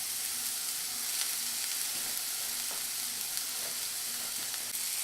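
Sliced peppers sizzle steadily in a hot pan, a constant bright frying hiss with faint stirring clicks, close and continuous throughout.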